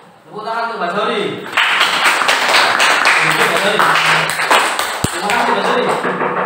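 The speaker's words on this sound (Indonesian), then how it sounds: "Tepuk tangan untuk Mbak Sori." A classroom audience claps for a student after her presentation, a dense burst of many hands that starts about a second and a half in and carries on steadily over a speaking voice.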